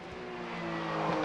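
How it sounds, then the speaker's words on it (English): A racing engine on a flying qualifying lap of the 2016 Superpole session at the Imola circuit sends out a steady, close, high tonal whine that climbs slightly in pitch as it accelerates. "It's a great noise, that car,"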